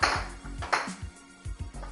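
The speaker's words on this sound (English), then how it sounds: "my puppy is pushing a bone on the ground" A puppy pushing a bone across the floor gives a series of close, hard knocks and scrapes in an uneven rhythm, with brief clatters and no talk.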